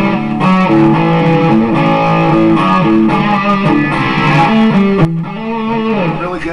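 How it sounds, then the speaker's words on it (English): Electric guitar played through a Blackstar tube dual overdrive set to a crunchy distortion, strummed chords and riffs ringing loud and saturated, with a brief drop in the sound near the end. "My first distortion I've set up, it's kind of just like a nice crunchy,"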